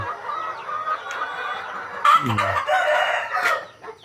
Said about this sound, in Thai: โอ้ยไก่เยอะเลย